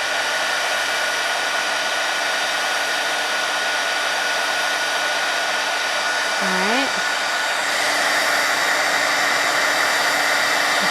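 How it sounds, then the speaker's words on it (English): A craft heat tool blows a steady, loud roaring hiss onto fig cardstock, running without a break and swelling slightly partway through, with no speech. "I'll hit this with my heat tool."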